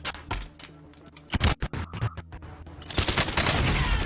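Rapid gunfire from the Alabaster weapon in the video game Warzone, a loud burst of sharp shots followed by a dense, sustained crackling spray of fire and impacts.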